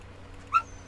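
A puppy lets out a single short, high whimper, close by, over a quiet steady hum; no talking.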